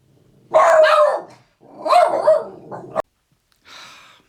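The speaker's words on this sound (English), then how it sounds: "dogs, they have to bark at the mailman" A dog barks at the mailman in a few loud, close bursts of barking, with a fainter, higher yip or whimper trailing after a short pause.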